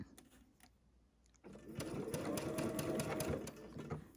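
A sewing machine stitches quilt fabric for a butterfly quilt. A few faint, slow stitches come first, then the motor runs in a steady whirring burst for several seconds, close up.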